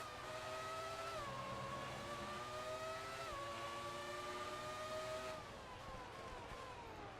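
A Formula 1 car engine in the F1 2018 racing game screams at a high, steady pitch, dropping sharply at each of three upshifts before climbing again, with no voices.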